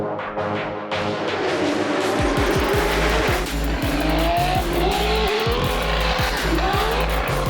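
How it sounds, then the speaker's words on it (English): High-powered time-attack street cars, a GTR and twin-turbo Lamborghinis among them, roar down a race circuit's front straight: loud, continuous engine howl with rising pitch sweeps and rapid gear-change pulses from a close car at full throttle. "take a whole bunch of high-powered street cars and throw them down the front straight as fast as they can go"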